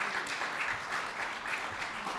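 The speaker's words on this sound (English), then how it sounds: "Let's give them a warm round of applause again." A warm round of audience applause at a legislative caucus speaker series, moderately loud and evenly sustained, with individual claps faintly pulsing through the wash.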